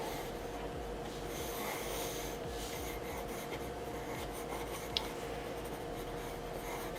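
An Evergreen watercolor pencil sketches a portrait on paper, giving a soft continuous scratchy scribbling that is close but fairly quiet, with faint breathing and no speech.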